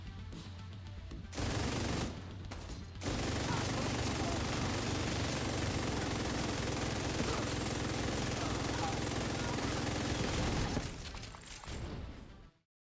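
Pestilence light machine gun firing in The Division 2, a dense sustained burst of rapid automatic gunfire that stops briefly, then resumes for a long continuous stretch before cutting off, with faint talk mixed in.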